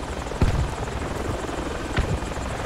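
A helicopter in the military shooter Project Reality holds a steady, loud rotor drone throughout, with broadband wash and a couple of brief thumps near the start and middle.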